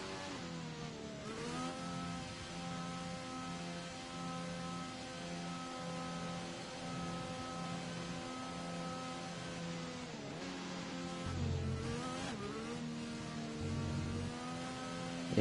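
F1 2021 race cars on a British Grand Prix formation lap drone with steady, tonal engine whine, pitch dipping and rising with gear changes as the pack rolls along, moderately loud and continuous.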